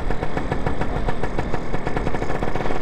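A Lambretta scooter engine runs hard while being ridden through the gears, a loud, close, buzzing putter with a fast, even pulse and no voices.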